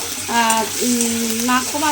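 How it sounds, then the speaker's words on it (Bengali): Onion, ginger, garlic and tomato frying in oil give a steady hiss and sizzle, while a person talks over it in the foreground. "পেঁয়াজ, আদা, রসুন, টমেটোটা তেলের মধ্যে এইভাবে দিয়ে একটু সময় রান্না করে নিয়েছি"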